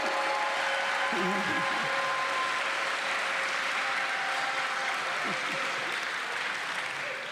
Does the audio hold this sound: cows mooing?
no